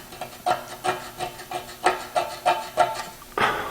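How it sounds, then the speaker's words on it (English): A caliper tip gouges cutting marks into a metal exhaust pipe near the weld while a V-band clamp is being fitted, a series of about nine short, close rasping scrapes in an uneven rhythm with no talking. "me using the caliper to actually gouge some cutting marks"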